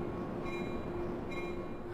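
A train in a horror video game rumbles steadily with a continuous low roar and faint tonal hum, moderately loud and unbroken, with no voices over it.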